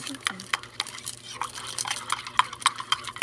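A spoon stirs a cookie milkshake in a glass, making a string of light clinks, taps and soft liquid swishes in an irregular rhythm, close and moderately quiet.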